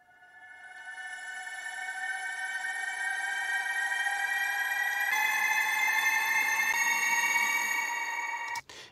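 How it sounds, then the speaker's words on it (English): Synth riser effect from the Traimory sample pack: a sustained, bright tonal swell with stacked harmonics that climbs steadily in pitch over about nine seconds before cutting off abruptly, heard alone. "All right, let's do risers."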